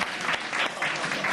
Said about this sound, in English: What are we applauding?